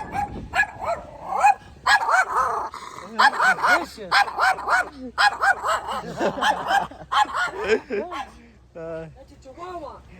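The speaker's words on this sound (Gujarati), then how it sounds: "કૂતરું ભસ ભસ કર" Dog barks in short, irregular bursts across the whole stretch, mixed with speech and laughter, fairly loud and close, with some higher yips and whimpering near the end.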